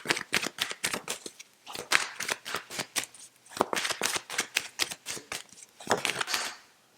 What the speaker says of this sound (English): shuffling out now to grab a few cards specifically for money